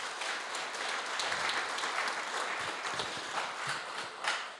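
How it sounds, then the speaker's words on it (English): A business-event audience gives its staff a round of applause, a dense, steady wash of clapping from a large crowd with little variation, continuing evenly throughout. "Give a big round of applause for them."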